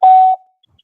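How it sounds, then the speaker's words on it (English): An En-Vision America electronic medication-label reader gives one short, loud, clear beep after its read button is pressed, followed by silence. "you might hear it beep here."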